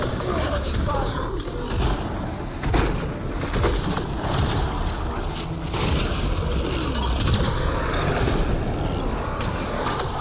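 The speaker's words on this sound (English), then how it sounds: "Enemy fire." Enemy gunfire during a Mass Effect Andromeda combat round, a steady chaotic mix of shots, mechanical clatter and booms filling the scene, with voices talking over the fighting.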